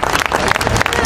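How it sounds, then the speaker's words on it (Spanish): Audience applause at a live event breaks out as a brief burst of dense clapping with crowd noise, loud and close, mixed with voices. "Quiero pedir un fuerte aplauso para la negra, Claudia."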